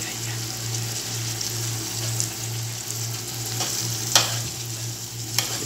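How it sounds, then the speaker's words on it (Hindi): Green chilies and onions sizzle steadily in a pan with a few stirring scrapes, close up under a constant low hum. "ते नाल हरी मिर्च, ते इन्हां नूं जरा अच्छी तरीके नाल भुनना है प्याज दे नाल"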